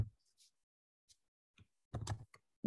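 Short scattered clicks of someone typing on a computer keyboard at home, a few sparse taps then a quick cluster of keystrokes, close and fairly faint with no talking.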